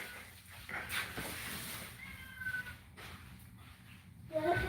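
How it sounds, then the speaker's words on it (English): A cat meows several times, faint to moderate and somewhat distant, amid indoor background noise during a live tool-haul stream. "There's too much meowing going on."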